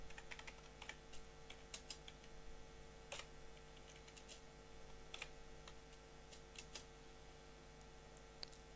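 Quiet, steady typing of CSS code on a computer keyboard, with light irregular key clicks and a few sharper taps running throughout, heard alone with no talk.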